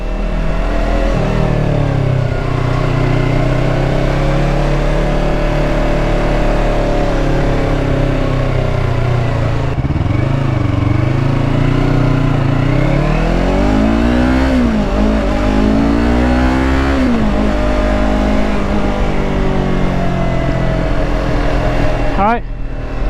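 Yamaha R3 motorcycle engine revving and shifting as the bike rides into traffic after months unridden, a loud continuous engine drone with rising and falling pitch sweeps under wind and a voice talking.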